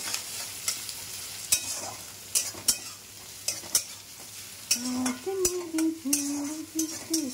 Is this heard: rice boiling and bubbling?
yes